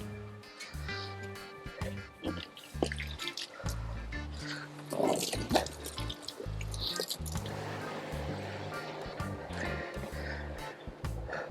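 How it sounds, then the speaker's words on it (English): Fresh water runs into a tank aboard the sailing yacht, heard as close, irregular drips, squishes and gurgles of filling liquid, moderately faint, with low tonal hum and a few knocks mixed in. "I'll start filling the water tank"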